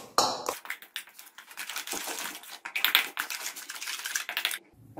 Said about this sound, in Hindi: अब हम इन सबको अच्छे से मिक्स कर लेंगे।